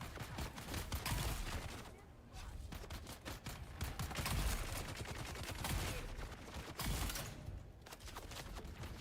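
Rapid gunfire from the video game Dune Awakening, dense bursts of shots rattling almost continuously and loud, with a couple of brief lulls.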